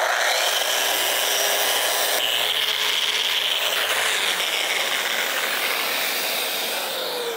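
Steady, loud sanding of a wooden bow tie inlay: a continuous rough rasping friction that holds throughout, close up with no talk.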